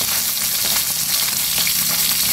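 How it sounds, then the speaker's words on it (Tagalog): Red-tail round scad (galunggong) fish frying in a pan of oil, a steady dense sizzle with constant crackling and popping throughout, loud and close, with no talking. "Ang huling salang ng ating pinaritong galunggong na pulang buntot"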